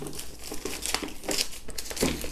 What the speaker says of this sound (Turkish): Şimdi zaten poşetini açacağız.